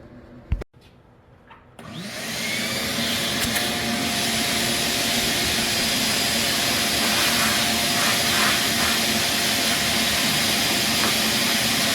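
A shop vacuum roars on after a couple of sharp knocks, running steadily and loudly with a hissing rush as it sucks debris out of a 1969 Simplicity Broadmoor 727 lawn tractor.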